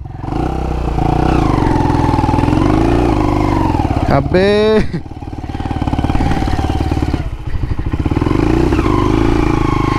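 A cheap, faulty XL motorcycle engine holds a locked high idle, droning loud and steady at close range. A rising whine cuts through midway, and someone speaks over the engine.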